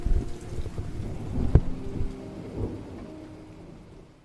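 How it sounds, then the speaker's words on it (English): Heavy rain pours steadily against windows and rooftops while distant thunder rumbles, with one sharp crack partway through before the storm settles back into a dense, continuous downpour. "The sound of rain persists, now heavier than before, pounding against windows and rooftops. Thunder rumbles faintly in the distance"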